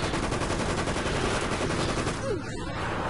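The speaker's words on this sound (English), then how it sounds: "Grenade launcher, you're not helping." Grenade launcher fire in the shooter Resident Evil: Operation Raccoon City, dense loud bursts of gunfire filling the whole moment amid battle noise.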